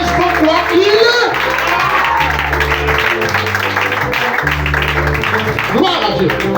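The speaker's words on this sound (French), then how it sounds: "Est-ce qu'on peut acclamer le Seigneur pour le pasteur?" Church congregation clapping and cheering in praise of the Lord during a prayer service, a continuous crowd applause beneath a loud voice speaking over it and musical tones.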